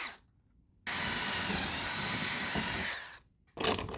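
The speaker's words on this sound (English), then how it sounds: "Drill the pilot holes" A power drill whirs steadily for a couple of seconds drilling pilot holes for lag screws while installing a garage door opener, then winds down; a short second burst starts near the end.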